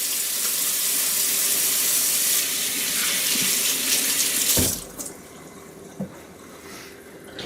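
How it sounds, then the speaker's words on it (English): Hands washed under a running kitchen tap while baking cinnamon rolls, a steady broadband splash of water filling the first four and a half seconds before it cuts off, leaving a quiet room with a couple of faint clunks. "So, I'm washing my hands."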